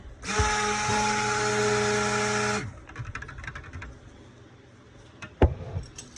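A handheld stick blender whirs loudly and steadily for about two and a half seconds while mixing soap batter, then cuts off, followed by light clinks and a sharp knock.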